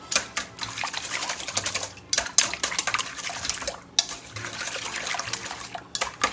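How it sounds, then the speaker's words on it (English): Eggs are whisked with half and half in a bowl for a frittata, producing rapid clattering strokes against the bowl in quick bursts with brief pauses, close and clear. "We're gonna whisk that together."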